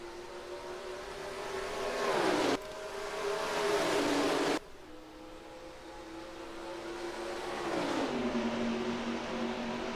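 Race car engines droning at a race start in the NASCAR Racing 2003 video game at Atlanta Motor Speedway, a steady whining roar from a pack of cars that shifts pitch as they accelerate, with no talk.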